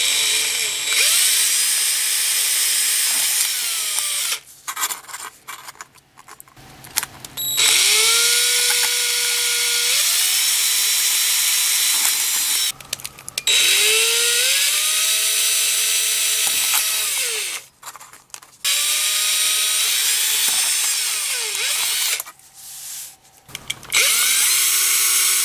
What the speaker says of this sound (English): I've drilled the four small holes on the top of my can